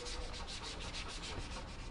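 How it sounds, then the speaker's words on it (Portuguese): Steady rhythmic scraping and sanding of gutters on a wall under renovation, a continuous abrasive rubbing with regular strokes, close and fairly loud, with no talking. "Tá raspando as calhas"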